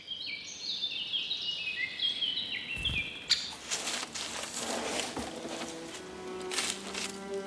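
A young spotted woodpecker calls in a forest setting, repeated high chirping notes at first, then a busier stretch of twittering and rustling against steady background hiss.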